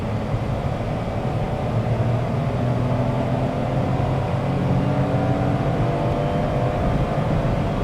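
A Nissan Magnite AMT with automatic gear shifting accelerates hard during a speed run. Its cabin hum drones steadily for the whole stretch, dense low engine and road noise that holds at a constant loudness, and no one speaks.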